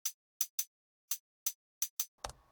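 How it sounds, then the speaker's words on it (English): Crisp, short electronic hi-hat ticks play in a loose rhythm, eight dry hits with no ring, ending in a brief noisy thump. "So this sounds quite a lot like just an electronic hi-hat"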